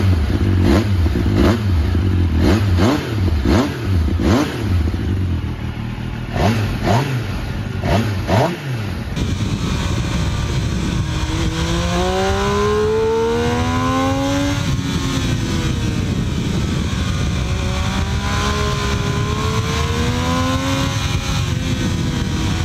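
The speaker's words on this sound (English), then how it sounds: "powerful three-cylinder engine roars like a lion" A Tornado 900 three-cylinder motorcycle engine revs close by, first in sharp repeated blips, then rising and falling in long smooth sweeps with a loud, continuous roar.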